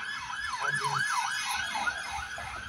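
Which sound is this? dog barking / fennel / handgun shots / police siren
police siren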